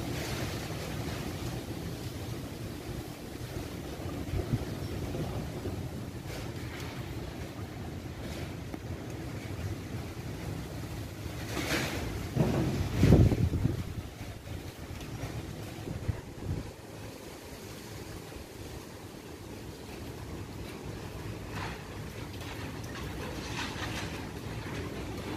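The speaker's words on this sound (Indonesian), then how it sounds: "Oh, masih berlangsung anginnya." Strong gusty wind sweeps through Rawamangun in East Jakarta, a continuous roaring rush with a louder gust swelling midway, heard up close with wind buffeting the microphone and no talk.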